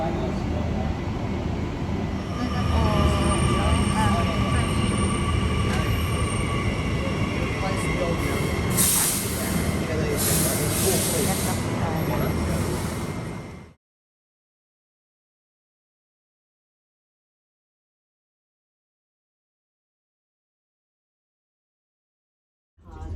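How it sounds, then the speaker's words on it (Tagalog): A train pulls into a station, a loud continuous rumble with squealing and hissing for about fourteen seconds that then cuts off abruptly into silence. "Malapit na yung train namin guys."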